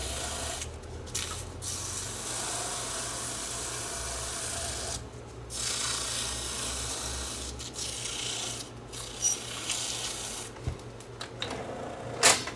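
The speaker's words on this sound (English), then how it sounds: "So I wonder if I can smoothen this down a bit and get some of that noise out of this thing" Rubbing and rasping of a cracked part from a vintage Sony TC-105 tape recorder being smoothed down, a steady close scraping texture over a low hum, with brief pauses and a few sharper scrapes near the end.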